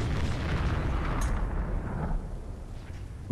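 An artillery gun fires in the tank game World of Tanks: one loud booming blast that rolls off and fades over about three seconds, with no talk.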